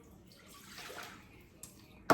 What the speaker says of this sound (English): I'm gonna go ahead and put my 1 cup of water